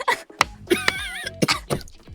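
A person on a live broadcast coughs several times in short, rough bursts, with throat noises and a voiced sound mixed in, close and fairly loud.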